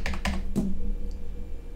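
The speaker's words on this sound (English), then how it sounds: "So I typed it in, hit enter," A few quick keystrokes on a computer keyboard as a password is entered, close and fairly loud, a short burst of clicks followed by a fading tail.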